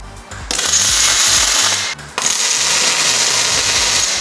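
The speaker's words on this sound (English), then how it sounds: "now you can see I'm using a wire buffing wheel to take away as much of the weld through primer as I can" A wire buffing wheel grinds weld-through primer off steel panels on a 79 series build, a loud continuous harsh whir that drops out briefly near the two-second mark before resuming at full force.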